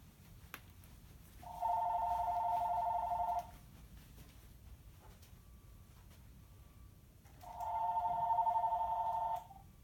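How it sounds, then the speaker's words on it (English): A telephone rings indoors: two long electronic ring bursts separated by a pause of a few seconds, moderately loud over a quiet room background, with no talking. "Excuse me, that's the phone."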